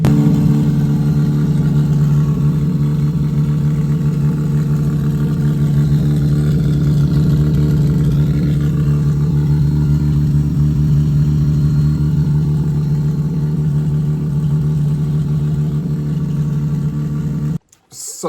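Mazda RX8 with a turbocharged bridgeport Renesis rotary engine runs at a high, steady idle, a loud buzzing drone held for the whole stretch and cutting off abruptly at the end.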